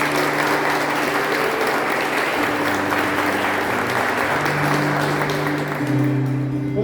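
A church congregation applauding, a dense, steady roar of clapping that holds at even loudness throughout, with a low sustained tone underneath.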